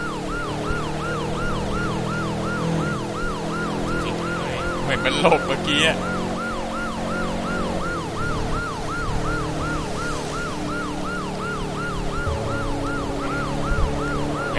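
Police car siren wailing in a steady repeating cycle during a Test Drive Unlimited 2 driving game, loud and continuous with engine hum underneath and someone briefly talking over it.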